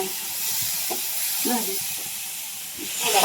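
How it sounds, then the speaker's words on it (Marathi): Garlic, cumin and curry leaves crackle and hiss in hot oil as tempering, a steady sizzle with brief sputters, close by and fairly loud. "आता फोडणी टाकले लसूण जिरे कडीपत्ता"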